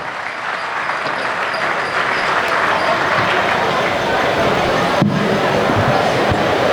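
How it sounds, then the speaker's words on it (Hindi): Audience at a Hindi comedy poetry gathering clapping steadily and densely for several seconds, a sustained wash of applause filling the hall. "एक बार तालियां बजाइए, एक बार तालियां"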